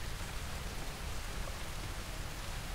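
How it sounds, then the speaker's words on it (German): Steady rain falls outside as a dense, even hiss with no breaks, moderately loud and heard on its own without any talking. "heute regnet's und ich finde es mega chillig"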